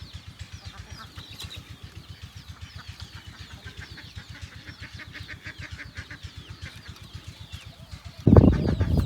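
Chickens cluck and crow steadily on an open farm with about 400 birds, a dense rhythmic chorus close by and at moderate volume, ending in a sudden loud rustle.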